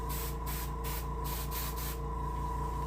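An airbrush sprays paint onto a brook trout taxidermy mount, a steady hiss pulsing in short bursts over a constant low compressor hum, close and continuous.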